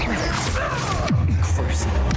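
A Confringo spell explodes in Hogwarts Legacy as a sudden crashing boom with a falling low rumble, two quick impacts close together above background game noise.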